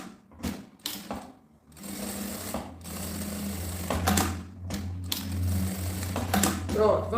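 Sewing machine stitching fabric to a bag lining in short bursts, rapid mechanical chattering runs separated by brief pauses, close and clear, with someone speaking softly between stitches.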